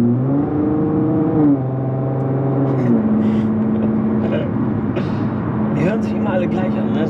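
A Nissan car's engine and aftermarket exhaust revving at a workshop, loud and steady, with pitch rising and falling between sustained tones, while people talk over it.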